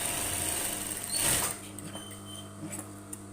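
A sewing machine stitches a seam on a half-circle skirt, a steady close mechanical whirring and buzzing that swells briefly and then runs on more quietly, with no one talking.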